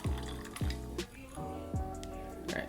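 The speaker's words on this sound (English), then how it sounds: "I'm gonna pour that into a glass. I'll just put some ice" Drink poured into a glass with ice, giving a few short clinks and splashy pours repeated in a rhythm, close and moderately quiet, with no talking.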